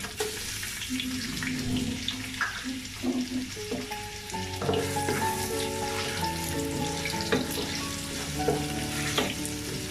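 Onions frying in a pan for thin vegetable khichuri are stirred, producing a steady close sizzle with soft spatula scrapes; faint tonal background sounds run underneath.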